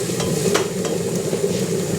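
Rice for a saffron risotto Milanese cooks gently in a pan over medium-low heat, giving a steady soft sizzle broken by a few scraping stirs, close by and with no talking.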